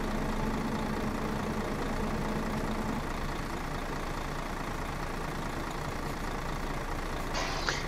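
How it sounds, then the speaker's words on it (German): A bus engine idles in the OMSI 2 bus simulator, a steady low diesel rumble that holds evenly throughout with no speech. "Dann wollen wir mal den Motor ausmachen."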